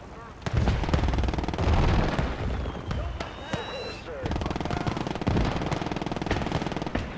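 Sustained machine-gun fire in a WWII video game battle rattles in rapid, repeated bursts with heavy booms mixed in, loud and close, while voices speak over the shooting.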